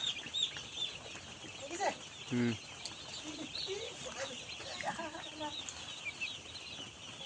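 Chickens cluck and call around a farmyard, with a short burst of louder clucking partway through and faint flapping, under occasional quiet talk.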